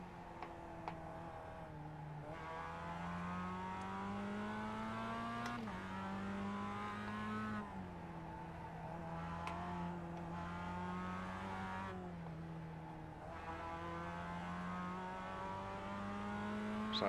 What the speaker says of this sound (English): It's that distant drone of an engine